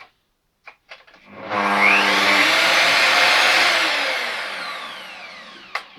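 A Bosch PCM 8 S mitre saw starts with a soft rising whine and runs as a steady, loud motor hum for a few seconds before spinning down, preceded and followed by faint clicks.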